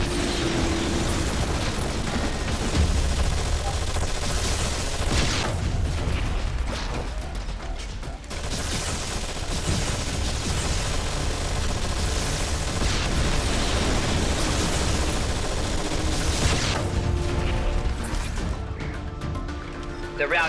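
Squad gunfire and explosions rage in the strategy game Anomaly 2, a dense, continuous wall of loud battle noise with mechanical clatter, crashes and blasts running throughout.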